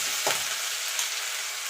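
Ginger and green chilli paste frying with panch phoron in hot oil for vegetable chop filling, a steady close sizzle with a couple of brief stirring scrapes.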